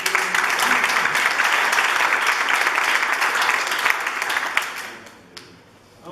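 A church audience at an academic year closing ceremony breaks into loud, dense applause that holds steady, then thins out and fades near the end.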